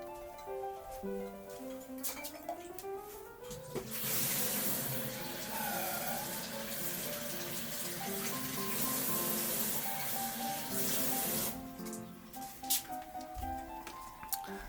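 Tap water gushes steadily into a kitchen sink for several seconds as a 1200 ml Samaglas glass teapot is rinsed, with soft background music before and after the flow.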